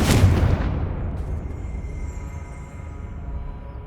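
In Hogwarts Legacy, a Confringo fire-blast spell strikes with one loud, heavy boom at the start. It then fades into a long, low rumbling decay with faint ringing above.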